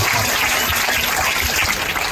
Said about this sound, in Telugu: గ్రాండ్గా చప్పట్లు కొట్టాలి